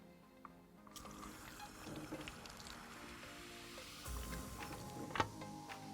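Water is drizzled onto curly hair while conditioning, a soft continuous trickle and wet squishing, close and quiet with a brief louder splash near the end.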